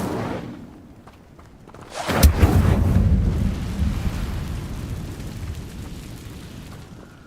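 A fire spell cast in Hogwarts Legacy, a roaring burst that erupts suddenly from a quiet rumble and then sustains as a loud, rushing, crackling blaze that slowly fades.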